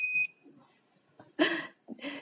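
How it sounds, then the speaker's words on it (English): A short electronic beep from a DWIN T5L display module at the start, followed by someone speaking nearby. "Do you hear the beep?"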